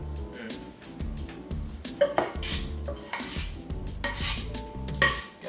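A utensil scrapes and clanks against a pot while scooping out apple-sausage macaroni and cheese, with repeated close metallic scrapes and knocks over several seconds.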